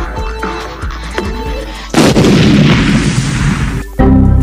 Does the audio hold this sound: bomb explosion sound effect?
yes